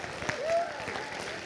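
An audience at a Shabbat gathering claps in brief applause, a dense patter of many hands heard under a speaker's voice.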